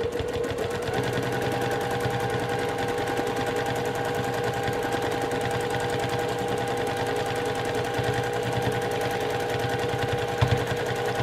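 A sewing machine running continuously for free motion quilting on a flying geese quilt, a rapid, steady mechanical needle rattle, loud and close throughout with no talking.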